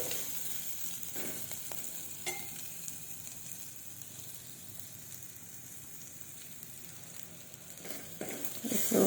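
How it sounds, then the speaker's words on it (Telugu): Moong dal frying in oil in a pan while a spoon mixes it, a steady soft sizzle with a few brief scraping strokes, close and fairly quiet throughout. "ఇదంతా ఒకసారి ఆయిల్ ఫ్రై కావాలి మంచిగా వేగాలి బాగా కలపాలి"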